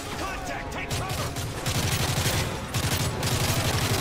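Sustained gunfire in the shooter game Call of Duty Modern Warfare 3, with rapid automatic bursts and scattered shots forming a continuous loud firefight mixed with game noise and faint voices.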